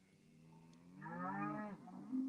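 A young calf gives a single drawn-out moo, close and fairly quiet, rising and then trailing off over a soft outdoor background.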